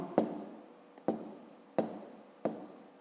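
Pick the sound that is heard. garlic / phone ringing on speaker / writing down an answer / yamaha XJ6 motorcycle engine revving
writing down an answer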